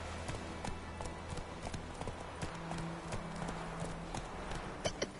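Horse hooves clip-clopping in The Witcher 3, a steady rhythmic trot of close, distinct hoofbeats over low ambient game background and a brief hum.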